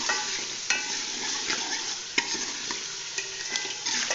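Potatoes going into sizzling masala in a pan, with a steady fry hiss broken by scraping stirs and several sharp clinks of the spoon; no talking.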